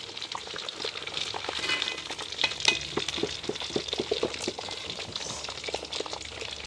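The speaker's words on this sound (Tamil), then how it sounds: "கணவாயெல்லாம் நாங்கள் பொறிச்சு எடுத்துட்டோம்" Squid fries in hot oil at a home feast, a close, busy crackling sizzle with bubbling and occasional stirring clinks, no talking.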